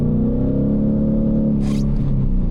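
A Ford Mustang engine hums loud and steady as the car drives on a slippery winter road, a deep continuous drone with a brief rustling burst partway through.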